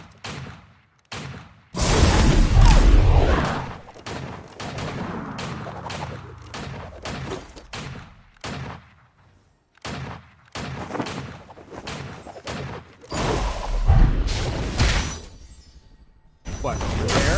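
Gunfire in the video game Vainglory, with repeated sharp bursts and loud volleys in short clusters separated by gaps, close and punchy, under some in-game effects.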